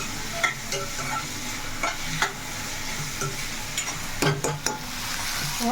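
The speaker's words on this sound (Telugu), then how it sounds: "చక్కగా ఇలా వేగుతుంది కదా" Onions and masala fry in a pan for Rayalaseema chicken curry, making a continuous close sizzle broken by several sharp metallic scrapes and clinks of a spoon stirring against the pan, and no one talks.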